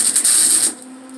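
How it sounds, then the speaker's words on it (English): Quick tack weld of a shock mount onto a buggy frame, a loud steady buzzing hiss lasting under a second before cutting off to a faint hum. "Now I'm going to tack this on here."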